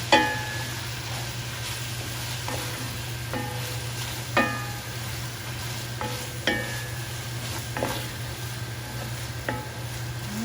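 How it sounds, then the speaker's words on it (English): Cabbage and saltfish tossed in olive oil in a pot, with repeated scraping stirs and utensil clinks about every second or two over a soft steady sizzle, no voices. "we're going to toss these together because you know the saltfish is."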